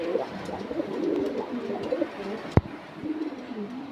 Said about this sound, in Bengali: এটা হলো লালদম কবুতর